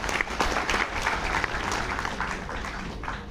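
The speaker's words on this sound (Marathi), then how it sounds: "त्यांच्यासाठी देखील जोरदार टाळ्या." An audience at a thank-you ceremony claps in steady, dense applause that holds at a moderate level for the whole stretch, with no voices over it.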